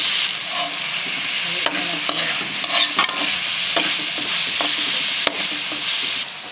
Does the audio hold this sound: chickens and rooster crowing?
no